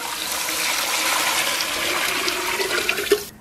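Water poured into a pressure cooker holding stir-fried pork knuckles, a steady close splashing gush that runs for a few seconds and stops abruptly.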